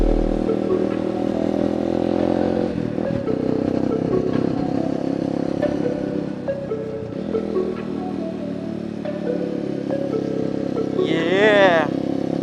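A stock Honda XR200 motorcycle with an open pipe idles and runs with a steady mid-pitched engine drone, briefly rising once, while someone talks over it outdoors on a mountain trail.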